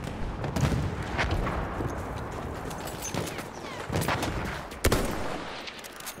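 Gunfire in the Battlefield 1 beta, several scattered shots and cracks over a noisy wartime battlefield background, with one louder close burst near the end, heard at moderate to low level.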